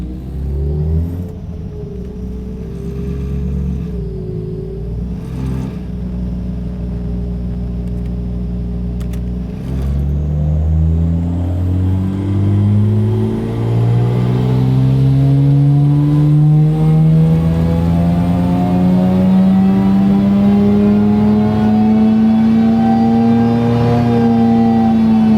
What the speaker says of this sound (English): So that's our first run done there on our FDRX7 with the 13B turbo engine.